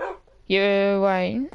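A dog barks in a survival video game, one sustained bark-like yelp following a brief spoken remark, loud and close.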